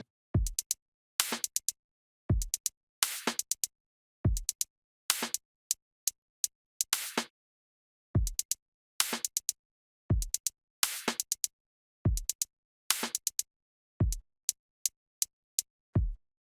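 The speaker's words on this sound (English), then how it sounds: "The first drum pattern sounds like this." A sparse drum pattern programmed in FL Studio repeats steadily: deep kick thumps alternating with crisp clicks and ticks, dry and close, with no voices.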